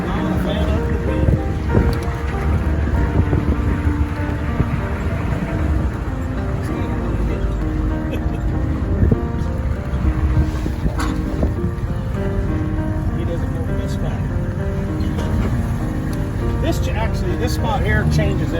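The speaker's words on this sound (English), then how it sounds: "I just don't like this wind." Strong gusty wind buffeting the microphone on a mountain walk in Utah, a loud continuous roar with a person talking over it.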